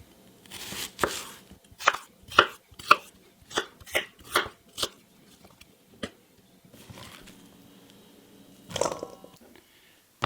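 An onion is chopped with a knife on a cutting board for calabacitas a la mexicana, about a dozen crisp, close chops in an uneven rhythm, then a pause and a final couple of cuts.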